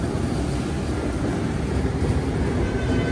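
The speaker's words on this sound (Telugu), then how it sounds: "వెనకాలే మన వందే భారత్ ఎక్స్ప్రెస్ ఉంది." Vande Bharat Express, a Mysuru to MGR Chennai Central train on a new rake, rushes past while overtaking, a dense steady roar of wheels and wind close by, loud and unbroken with no voices.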